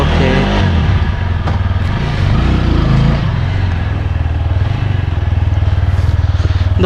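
A 2021 TVS Apache RTR 200 4V BS-6 motorcycle on the move, its engine revving loud and close with a rough, pulsing exhaust note that settles into a steady throb, with wind rush and no clear talk.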